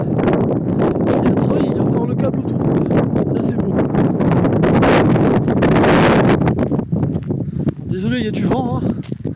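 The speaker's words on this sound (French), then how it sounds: "il y a du vent" Heavy, continuous wind buffeting a microphone outdoors at the Restefond fortification, a loud low rumble throughout, with muffled voices and faint rustling beneath it.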